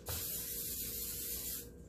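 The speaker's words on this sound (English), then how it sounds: "I'm just gonna spray it with some cooking spray" A short continuous hiss of aerosol cooking spray into a pan for sausage, lasting under two seconds and then stopping abruptly, close by and alone.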